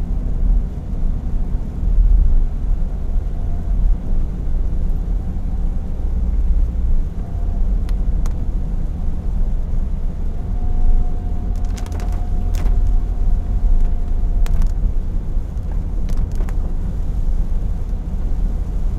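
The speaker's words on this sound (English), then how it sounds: "Currently I'm driving uphill, so you can see a bit of slope going upwards." A car climbs a slope on a rainy drive through Miri, Sarawak, Malaysia, giving a steady, close low rumble of engine and road noise throughout, with a few brief faint clicks.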